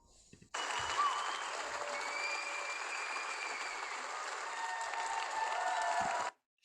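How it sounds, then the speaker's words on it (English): An audience applauds 4-H livestock winners at an achievement and volunteer leaders appreciation night, a dense, steady burst of clapping lasting several seconds before stopping abruptly. "please give this group a round of applause"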